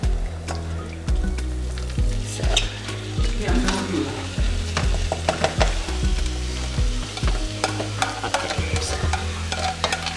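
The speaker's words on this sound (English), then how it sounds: "So you want to keep on frying this?" Steady loud sizzling of vegetables frying in a pan for coconut rice, with a utensil repeatedly scraping and stirring through them, close up and continuous.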